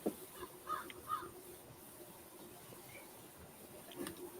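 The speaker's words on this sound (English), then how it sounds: "Listen to the birds." Birds call outdoors in a pretty, quiet spot: a couple of brief, faint calls early on, then a soft background hush with a few scattered chirps.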